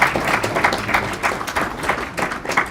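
A church congregation claps during a sermon, with loose, uneven rounds of hand claps that rise and fall over a few seconds, fairly close and steady, with no voices heard above it.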